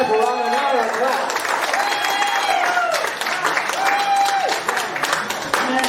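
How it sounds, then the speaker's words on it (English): A crowd at a community meeting in Dargaville claps for an honoured guest, the applause running under a speaker's voice and a sustained tonal sound, moderately loud and close throughout. "Come on, give Sir Aparananata a clap."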